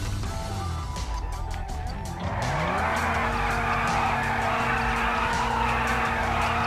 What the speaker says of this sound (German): Da quietscht der Reifen, das können sie überhaupt nicht ab.